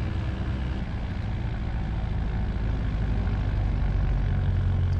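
Piper PA28-181 Warrior II light aircraft engine throttled back to idle at Fairoaks, a steady low rumbling drone with a faint propeller beat, continuous and close, with no talk.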